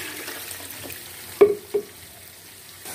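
Water is poured from a jug into keema cooking with whole garam masala in a pan: a soft sizzle and stirring underneath, then two quick splashing bursts close by, with no one speaking.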